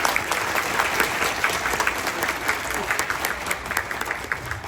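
A crowd at a state legislature's Developmental Disabilities Day art award gives a warm round of applause, a steady blur of many hands with individual sharper claps poking through.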